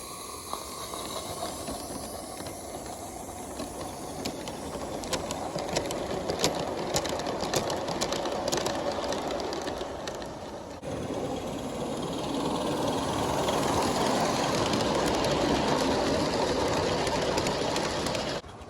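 An LGB large-scale model train with a caboose and a smoking stack runs nearby with a continuous hissing, chuffing rumble that swells louder in the second half, with faint clicks above it.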